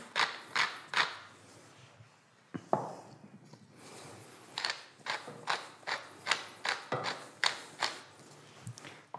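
Salt and pepper are ground by hand into a cheese sauce for lasagna, giving a run of repeated ratcheting grinder clicks in short bursts, close and fairly quiet, with no talk.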